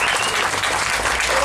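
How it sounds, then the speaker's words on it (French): A dinner-event audience bursts into loud, dense applause, many hands clapping continuously and evenly across the whole moment. "On peut les applaudir vraiment bien fort."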